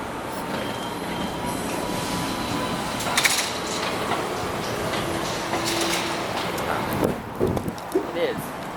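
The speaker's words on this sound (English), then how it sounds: "The trolleybus going all the way to Daly City." A San Francisco electric trolleybus heading to Daly City rolls along, a steady rumbling ride with squeals, rattles and a brief whine, heard from inside with voices talking over it.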